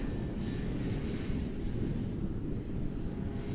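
An Air Tractor 1.5m RC model airplane drones faintly in the distance as a steady low hum, mixed with outdoor wind rumble.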